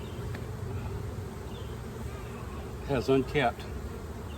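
Honeybees buzz steadily around an open hive during an inspection of hives 3 and 2, a continuous close drone with a brief spoken phrase breaking through near the end.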